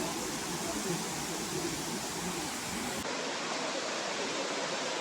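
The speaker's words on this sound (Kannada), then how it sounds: "ಇವಾಗ water falls third water falls ಅನ್ನು ತೋರಿಸ್ತೀನಿ" The third tier of Elephant Falls, a layered waterfall in Shillong, Meghalaya, roars as a steady, loud rush of falling water heard close up, with no other sounds.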